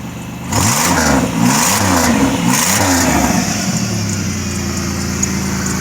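A rusty 1997 Pontiac Grand Prix GTP coupe, its exhaust leaking at the rear manifold and downpipe, revs in several quick rising and falling pulls up close, then settles back to a steady idle. No talking.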